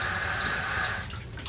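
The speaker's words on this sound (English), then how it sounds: "They're going to add a little bit more water in there." Water pours steadily into a bucket being prepared to soak a rusty cast iron skillet, a continuous splashing rush that tapers off near the end, with no talking.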